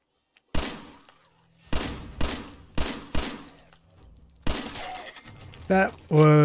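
Gunshots in Fallout 4: six sharp, loud reports with decaying tails, spaced irregularly about a second apart, followed by clanking and a metallic rattle near the end.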